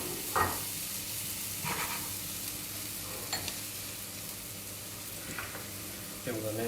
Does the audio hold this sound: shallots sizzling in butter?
yes